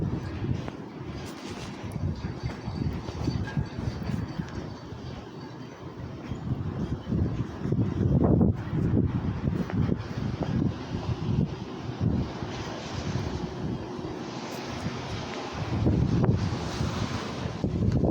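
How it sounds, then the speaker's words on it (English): Tropical Storm Debby brings steady rain and gusting wind that roar across a microphone in rough, rising and falling surges, loud and continuous throughout with no voices. "we still getting some rain and wind"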